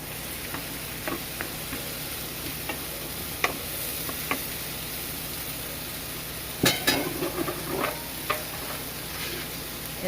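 Shrimp and vegetables fry on an induction cooktop with a steady close sizzle, broken now and then by faint utensil taps and one sharper clatter of stirring, and no talking.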